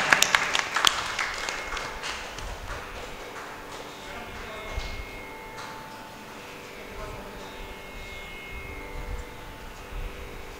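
Audience applause at a Carnatic music concert stage, with a burst of clapping at the start that fades into a softer, scattered patter of claps and light crowd noise.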